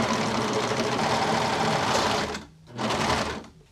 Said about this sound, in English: we do have a serger machine, so I'm going to try serging the ends first to clean all that up